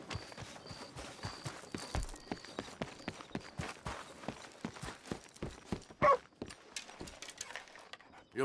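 A dog in the Red Dead Redemption 2 video game whimpers amid repeated hoof clip-clops and footsteps, with faint game sounds throughout.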